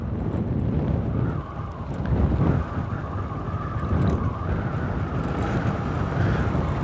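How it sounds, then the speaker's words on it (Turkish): Steady wind buffeting a microphone on a rocky descent to Kıranardı Waterfall Park near Erciyes, a constant low rumble with gusty swells, heard close with no voices. "Evet rüzgar da var bayağı."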